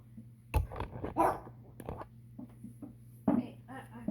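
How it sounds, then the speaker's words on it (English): A dog barks in a few sharp bursts at close range, with short gaps between them and a steady low hum underneath. "now you're barking at me?"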